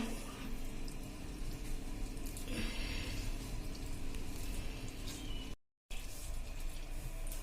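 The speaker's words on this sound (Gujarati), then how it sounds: "આ રીતે એનું પાણી નિતારીને આપણે" Water drains from salted, turmeric-coated grated gunda mango during pickle making, heard as a faint continuous trickle and wash with a brief splashy swell midway.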